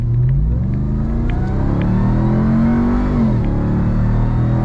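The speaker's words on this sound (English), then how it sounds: "It is a race car. 702 horsepower." A 702-horsepower race car accelerating hard, its engine note climbing in a loud, close, continuous roar before dropping back as the revs fall.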